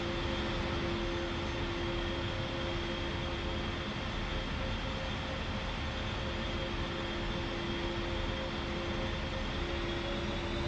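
Aircraft engine steadily droning while taxiing in the DCS flight simulator video game, a constant loud whine and rumble with a sustained hum, no talking.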